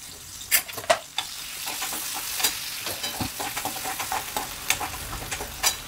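Chopped onion frying in a little oil in a pan while cooking ridge gourd curry, a continuous sizzle punctuated by sharp scrapes and clinks of a spatula stirring, close and fairly quiet, no talking.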